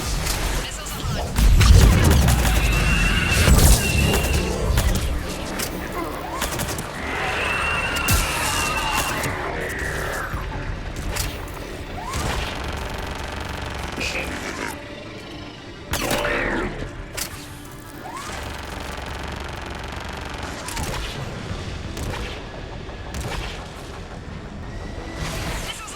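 Missile strikes exploding during a battle in Mass Effect 3, a loud heavy blast early on followed by rumbling impacts, mechanical whirs and scattered crashes, mixed with game voices talking.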